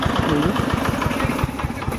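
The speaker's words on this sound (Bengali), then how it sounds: "তো বলতে বলতে ইঞ্জিন ভ্যান চলে যাচ্ছে" A motorized engine van putters close by with a steady, rapid chugging engine rhythm as it pulls away.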